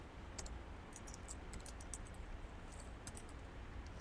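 Soft, rapid keystrokes on a computer keyboard while writing code, a faint, steady run of light clicks with no talk.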